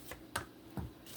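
Tarot cards being shuffled messily, giving a few short, separate riffling bursts close to the microphone in an otherwise quiet room.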